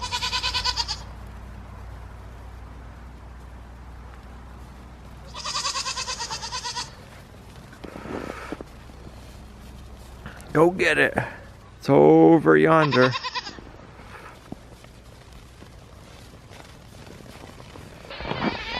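Goats on a farm let out several loud, wavering bleats, some near and some farther off, separated by quiet stretches. Someone talks briefly between the calls.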